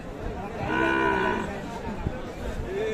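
A Sahiwal cow with her bull calf at the Aftabganj cattle market in Dinajpur lets out one close, drawn-out moo, with faint crowd murmur around it.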